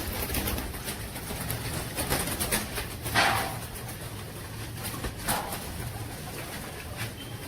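Pigeons kept by a fancier coo softly in a loft, with a low steady murmur and a few brief louder calls over a constant background hiss, and no talking.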